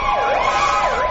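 An ambulance siren wails in a rising and falling pattern through a city street during an emergency, loud and steady without a break, with traffic noise underneath.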